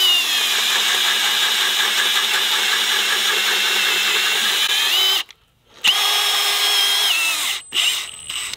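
Milwaukee M18 hammer drill, model 2997-22, boring a hole about 10 inches deep, a loud steady whine for about five seconds, then a brief pause and two more short bursts with quick stops.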